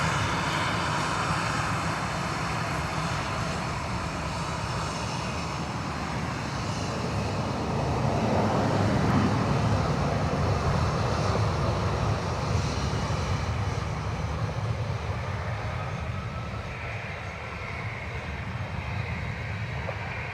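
An American Airlines jet takes off from runway 10 right at Dublin Airport, its engines a loud, sustained roar that swells in the middle and eases slightly toward the end, heard alone from outdoors.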